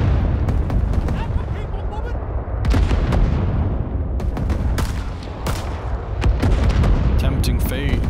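Artillery fire support strike in Rising Storm 2 booms loudly over and over across the whole stretch, dense overlapping blasts and rumbling gunfire from close by, with a faint voice mixed underneath.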